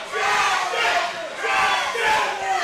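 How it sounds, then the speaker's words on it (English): A wrestling crowd at a ProSouth Wrestling event roars steadily, urging a downed wrestler back to his feet, with the dense cheering swelling and dipping in broad waves and no other sound standing out. "The crowd trying to get Justin up."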